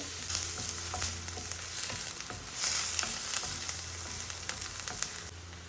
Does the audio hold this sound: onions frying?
yes